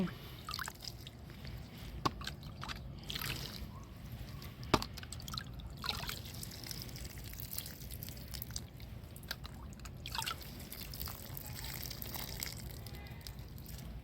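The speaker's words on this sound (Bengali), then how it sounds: "এবার আমি জল দিয়ে নেব অল্প অল্প করে জল দিয়ে নেব" Water poured a little at a time onto old potting soil in a crate being readied for garlic planting, giving soft close trickles and drips with faint background sounds and brief voice.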